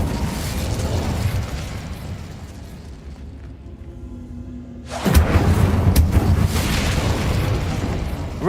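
The Incendio fire spell in the Hogwarts Legacy video game bursts into a loud, roaring fiery blast after a quieter rumbling stretch, the sound then staying dense and booming to the end, no talk.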